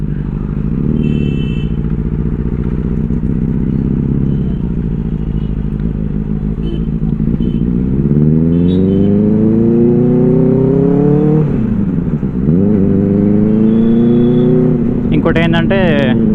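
Benelli 600i motorcycle fitted with an IXIL 55 exhaust, loud and close. It idles with a deep rumble, then revs up and down in sweeping surges before settling back.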